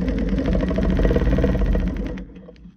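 A sewing machine quilts a whole cloth quilt on a regulated stitch, a loud rapid mechanical chatter running steadily and close up before slowing and trailing off at the end, with no talking.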